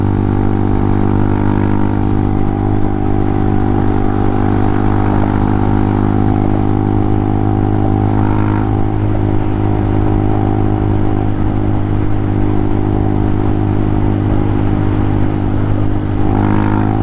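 A Honda Hawk 250 motorcycle engine drones loudly and steadily while riding, with wind rush and a couple of brief rises in pitch.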